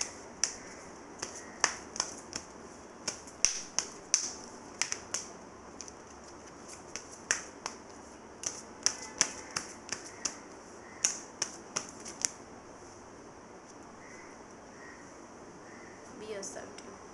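Tarot cards being shuffled to draw one more card: a series of light, quick, papery snaps and flicks in uneven bursts, quiet and close, that thin out toward the end.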